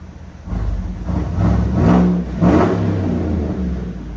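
A 2017 GMC Yukon Denali XL with a 6.2L V8 and Dynomax Race Bullet exhaust revs twice in quick succession, deep and loud at close range, over a steady idle.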